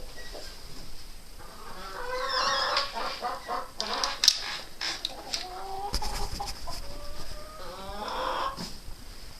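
Hens in a small mixed backyard coop in winter cluck and chatter steadily, with a few sharper squawks and calls rising over the flock's murmur, close and moderately loud, no talking.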